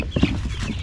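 A chicken gives a brief, close cluck, a short burst of clucking sounds in under a second.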